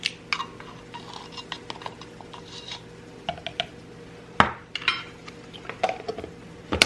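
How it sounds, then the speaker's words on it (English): A spoon scrapes and clinks against a bowl as baking ingredients, including baking soda and salt, are stirred together. The tapping and knocking are irregular and close, with no talking. "I'm going to dump that in and combine those ingredients."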